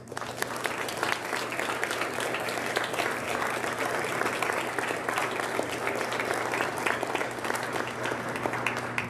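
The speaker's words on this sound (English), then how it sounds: "can I get a huge round of applause for all of our parents in the audience?" A school audience at a Grade 12 celebration claps for the parents present, loud continuous applause from a packed room with a steady low hum beneath.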